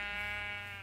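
A sheep in a video game gives one sustained, wavering bleat, clear and fairly close, lasting under a second with nothing else over it.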